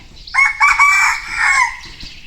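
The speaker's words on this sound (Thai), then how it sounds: "โอ้มีไก่ขันอีกพี่น้อง" A single rooster crows nearby in a rural southern Lao village, a loud drawn-out call lasting about a second and a half, with faint background noise.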